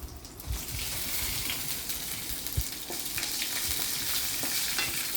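Dried red chillies and garlic frying and sizzling in a pan with occasional stirring, a steady close crackle with small clinks throughout, no talking.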